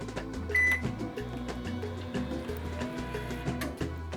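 Microwave oven rated at 1,050 watts running on an undersized power inverter, with a low steady electrical hum broken by periodic pulsing and a brief beep near the start, close and fairly quiet.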